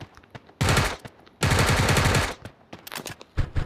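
UMP9 submachine gun fire in the Sausage Man video game: two sustained automatic bursts of roughly a second each, loud and close, separated and followed by scattered single shots and softer game effects.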